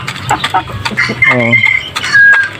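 Young Aseel chickens, three to four months old, cluck and give short squawking calls nearby in uneven bursts, with a voice talking over them.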